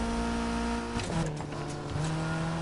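A car revs at full throttle in the Need for Speed Heat racing game, engine tone steady and loud, stepping up in pitch after a gear change around the midpoint, with a brief tire squeal.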